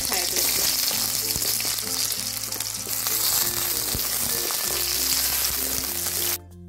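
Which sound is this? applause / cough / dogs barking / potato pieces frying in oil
potato pieces frying in oil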